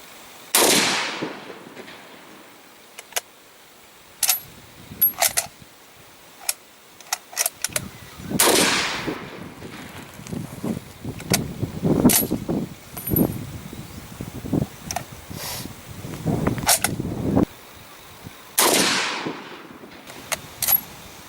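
An antique Lee Enfield .303 magazine rifle fires three loud, close shots outdoors while hunting in New Zealand, each a sharp crack with a rolling echo, spaced several seconds apart amid rustling and handling noise.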